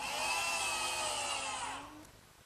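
A power drill drives screws into a hinge on a hard oak medicine cabinet, giving a loud, sustained whine that winds down and stops near the end, with no talking.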